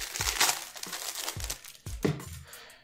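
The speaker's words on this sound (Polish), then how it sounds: "Promeczkę możemy otworzyć już z papierka." A paper wrapper on a Magic: The Gathering promo card from a Rivals of Ixalan prerelease pack is torn and unwrapped close up, giving a run of sharp, crisp crinkles and crackles.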